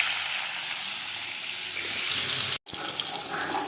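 Tap water runs steadily into a kitchen sink while hilsa fish is washed, a close, broad hissing splash that continues evenly, briefly cut off for a moment before resuming, with no voices.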